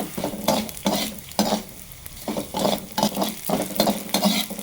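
Small pieces of edible gum frying in hot oil for laddu, a steady crackling sizzle broken by repeated stirring scrapes in a pan, close and fairly loud with no talking.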